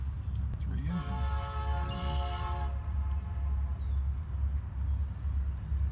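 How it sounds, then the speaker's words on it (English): A BNSF diesel freight train horn blares in a long, steady harmonic blast from a distance, over a constant low rumble of a passing southbound freight train with three engines. "You mean the diesel train horn whistle?"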